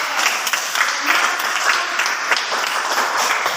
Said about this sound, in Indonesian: tepuk tangan buat si Raket